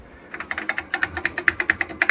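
Typing on an Apple II computer keyboard with a faulty keys, a steady run of sharp, fairly loud clacking keystrokes at a quick even rhythm, close and alone.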